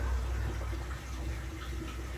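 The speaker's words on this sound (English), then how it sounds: "You can hear the water running in there" Water pours into a 43-gallon RV fresh-water tank on a converted shuttle bus, a steady muffled rushing flow heard close by without speech.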